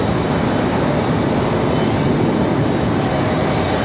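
A Southwest Boeing 737 MAX 8 airliner in from Dallas at Raleigh-Durham International Airport gives off a dense, steady engine roar that stays loud and even throughout, with no one speaking.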